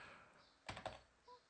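A couple of quick, faint keystrokes on a computer keyboard tap out close together in a quiet room, followed by one softer click.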